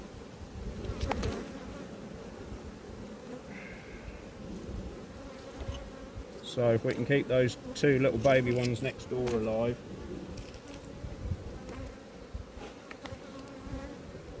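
Honey bees buzz in a steady insect drone around an open apiary hive, with a person talking close over the hum through much of the clip.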